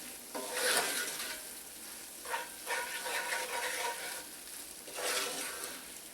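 A flour-and-fat roux for sausage gravy being stirred in a pan, with soft sizzling and scraping strokes that swell and fade in a few bursts, close and moderately loud with no talk.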